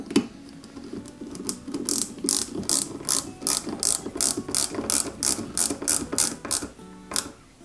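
Rapid ratcheting clicks from a small screwdriver or ratchet tool driving tiny screws to fix the right engine block onto its support in a Peugeot 205 GTI 1.9 scale model kit, close and crisp, a steady run of bursts with brief pauses.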